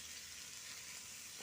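Steady bright sizzling of onions frying in hot oil, a continuous crackling hiss with no voices.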